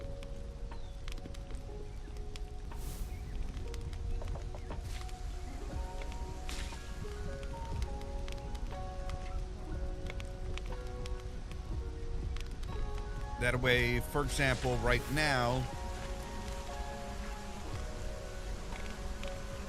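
Steady rain falls in the video game Solar Punk, a soft continuous patter running underneath someone talking throughout, with brief game effects rising midway.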